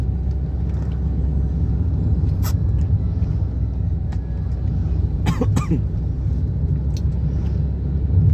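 Toyota Sienta CVT car engine revving above 3000 RPM, a steady low rumble and drone heard from inside the vehicle, with a few faint clicks and knocks over it.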